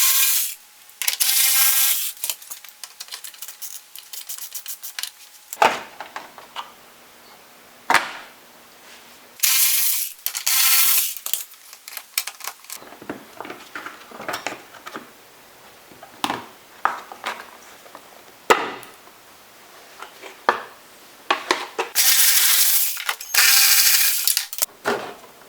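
Hand ratchet clicking as bolts come out of the side air dams on a Kia during a rebuild teardown, in several separate bursts of rapid close-up clicking with short pauses and scraping between them, no talking.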